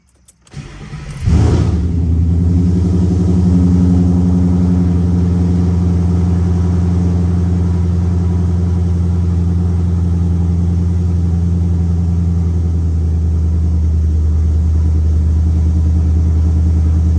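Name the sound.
Ford car engine cold start with MBRP axle-back mufflers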